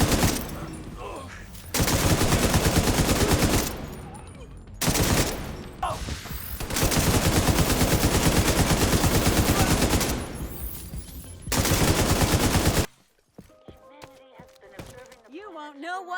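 Gunfire in the video game The Division 2, several long bursts of rapid automatic fire in close succession with brief pauses between, then quieter game sounds and voices at the end.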